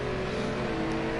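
Onboard a black Porsche GT4 race car on the Daytona Road Course during qualifying, a steady, fairly faint engine drone holding one pitch.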